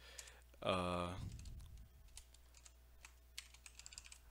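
Typing on a computer keyboard while writing a simple Python program, soft scattered key clicks close by, with someone talking at the start.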